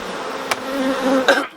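Honeybees buzzing around a beehive in the UK make a steady close hum with shifting pitch, a few sharp passes standing out as bees fly near, then the buzz drops away at the end.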